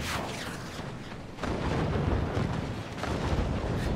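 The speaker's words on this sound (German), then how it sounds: "Jetzt müssen wir alle Kanonen ein bisschen weiter justieren, dass sie weiterschießen" Ship cannons booming in a naval battle in the video game Forts High Seas, a dense run of heavy, rumbling blasts and explosions rolling into one another at close range, with no talking.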